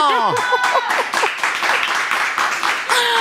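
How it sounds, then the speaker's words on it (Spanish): Applause from a small group, dense clapping mixed with laughter and cheerful voices over a few seconds. "Un aplauso de este talento."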